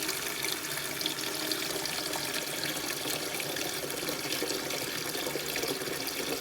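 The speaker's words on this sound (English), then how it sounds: "So now I'm going to put some water into the tea." Water runs steadily into a pot for brewing herbal tea, a continuous bright splashing stream that stays even and fairly close for several seconds with no talking.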